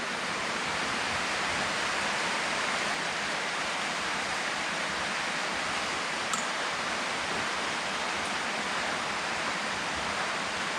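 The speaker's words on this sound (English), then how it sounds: "Sorry about the rain noise as well." Steady, dense hiss of rain falling, constant and fairly soft throughout with no voices.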